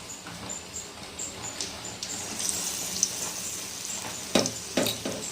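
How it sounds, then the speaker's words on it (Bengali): Batter fritters go one by one into hot oil, bringing a soft steady sizzle close by, with a couple of sharper spattering bursts near the end as pieces hit the pan. "তেলটা গরম হয়ে গেছে, আমি এগুলো দিয়ে দেবো একে একে"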